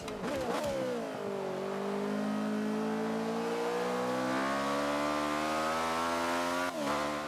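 An Ariel Atom V8 engine in Forza 5 revs hard, climbing through a gear change and then holding a steady high whine for several seconds, loud and close, with no one talking.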